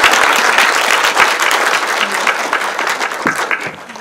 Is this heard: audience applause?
yes